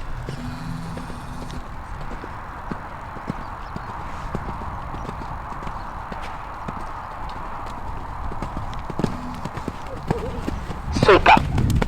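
Horse hooves clip-clop steadily on arena footing during a showjumping training lesson, a continuous rhythmic trot under a coach's spoken instructions, growing louder and busier near the end.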